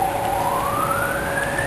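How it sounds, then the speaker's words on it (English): A fire truck siren wails steadily with a slowly rising pitch as it approaches through rain, moderately distant behind the constant hiss of falling rain. "There's a siren coming."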